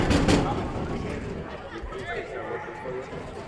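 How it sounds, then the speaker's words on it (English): Excited home crowd at a Mukwonago playoff basketball game against Kimberly, a loud burst of cheering and chatter that settles into a steady crowd murmur. "Excited home crowd here at Mukwonago."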